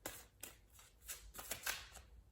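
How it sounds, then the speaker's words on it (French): Tarot cards being shuffled by hand, a close, quiet run of papery riffles and flicks in short uneven bursts. "Je bats les cartes."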